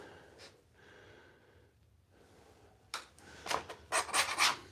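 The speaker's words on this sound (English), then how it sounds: "Got some dry glue on here. Make it a little hard to scrape." Scraping dry glue off a handmade skateboard deck, starting as a soft faint rub and building into several loud, rasping strokes in quick succession near the end.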